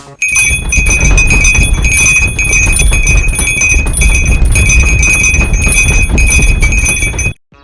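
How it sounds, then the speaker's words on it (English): Eerie bells ring out in a horror story sound effect, loud and close, a dense sustained jangle of clanging tones with a clattering undertone that cuts off abruptly near the end. "the bells rang out again. Louder. Closer."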